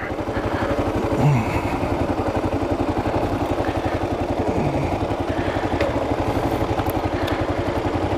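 A Kawasaki KLR 650 motorcycle rides along a country road, its engine thrumming in a steady, even rhythm with constant wind and road noise and no pauses.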